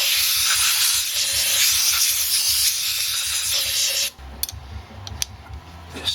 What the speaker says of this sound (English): I think I'll just give it a sand and get rid of that stuff.